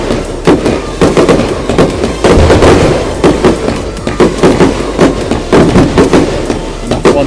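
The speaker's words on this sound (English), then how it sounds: "Finale of the fireworks." Fireworks burst in rapid, overlapping bangs and crackles, loud and continuous, a dense finale barrage at a football club display with barely a pause between explosions.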